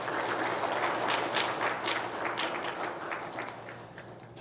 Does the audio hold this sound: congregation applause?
yes